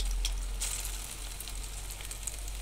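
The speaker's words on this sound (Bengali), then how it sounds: "তেলটা সম্পূর্ণ গরম হলে আমরা বড়াটা দিয়ে দিলাম। বড়াটা সম্পূর্ণ ভালোভাবে ভাজতে হবে" Onion fritters (piyaju bora) frying in hot oil, a steady close crackling sizzle with scattered pops, fairly quiet and continuous with no voices.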